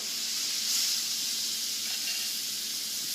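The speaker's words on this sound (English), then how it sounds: "now I'm going to drop in the shrimp that I have seasoned in wine and oregano and basil" Steady, even hiss of shrimp seasoned with wine, oregano and basil sizzling in a hot pan, close and continuous for a few seconds with no voices.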